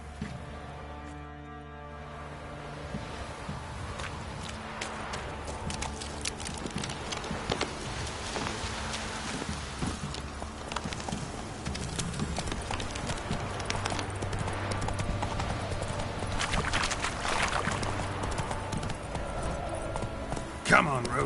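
Geralt's horse Roach walks along in The Witcher 3 game, hooves clip-clopping steadily at moderate distance beneath ambient sound and spoken dialogue.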